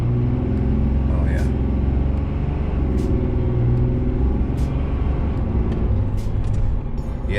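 A stock 2018 Dodge Ram with the 6.7 Cummins diesel accelerates, its engine a steady, loud low rumble under continuous talk, with brief hissing bursts now and then.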